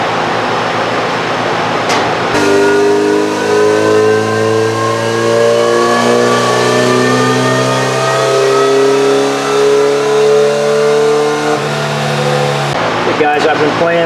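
A Kawasaki Z900RS motorcycle on a stage 2 tune revs loudly and steadily, its engine note holding then climbing in pitch over several seconds before cutting off near the end, close and dominant.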